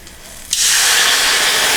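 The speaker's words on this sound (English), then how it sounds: "I often add a little bit of water, and it's going to steam" Water splashes into a hot pan of cooking sausage and erupts into a loud, sudden sizzling hiss of steam that holds steady after a quiet start.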